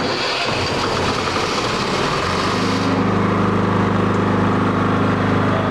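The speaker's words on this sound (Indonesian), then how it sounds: "Nah, sekarang genset sudah menyala dan akan melakukan tahap pemanasan selama 2 menit." A generator set starting up and warming up while an automatic transfer switch panel is assembled. A steady engine hum settles into an even idle with a low drone, continuous and fairly close, with no talk.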